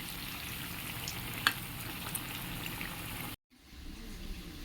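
Fritters of ground lentil paste fry in oil with a steady crackling sizzle that cuts out briefly near the end and then resumes.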